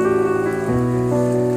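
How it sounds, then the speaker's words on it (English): Steady rain patters on a surface, with a constant wash of noise and a few tonal hums in the background, no voices. "It's not my fault that it's raining"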